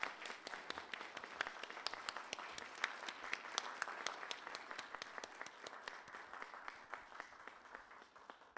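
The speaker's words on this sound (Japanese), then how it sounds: "皆様拍手でお迎えください。" An audience claps steadily to welcome a kabuki actor onto the stage at an Osaka-Kansai Expo mascot announcement event, the applause dense and sustained throughout before thinning slightly at the end.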